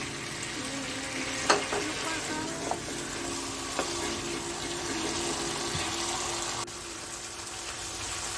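Paneer sizzles steadily in a hot pan, a loud continuous frying hiss with a few clinks and scrapes of a spoon as the pieces are stirred.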